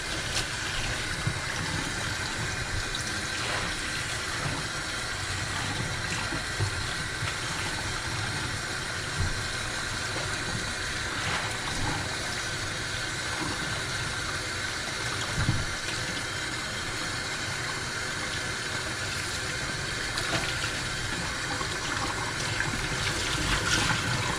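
Water runs steadily while dye is rinsed out of a single-sided bullseye tie-dye t-shirt, a continuous broad rushing wash under machine-like hum, with no talk.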